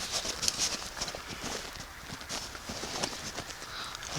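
Footsteps on a rocky surface, irregular crunching and scuffing steps with stumbles, close to the microphone under steady outdoor background noise.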